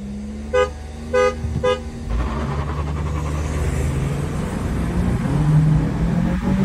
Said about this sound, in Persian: 3 تا بوق بزن، شروع میکنیم.